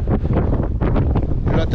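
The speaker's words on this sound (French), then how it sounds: "il y a trop de vent là" Strong wind buffets a microphone outdoors aboard a sailboat, a loud, ragged rumble with gusty swells over a couple of seconds and no clear speech.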